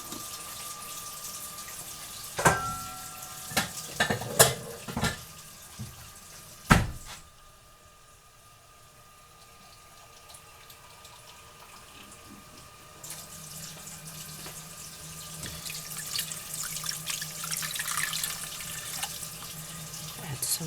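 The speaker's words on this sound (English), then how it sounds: "Add some water." Water runs from a kitchen tap into a cooking pot for simmering pork tenderloin, a steady rushing stream following a few sharp clanks and knocks, then a quieter stretch before the flow returns and grows louder toward the end.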